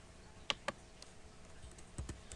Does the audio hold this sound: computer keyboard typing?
yes